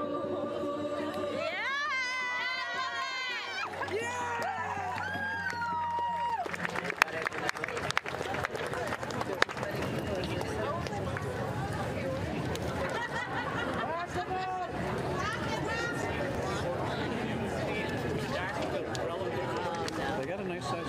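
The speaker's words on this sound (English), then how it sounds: "They got a nice sized crowd" A large crowd at a MoveOn.org anti-Trump rally, with steady chatter and shouting across a wide outdoor space, singing early on, and talk close by.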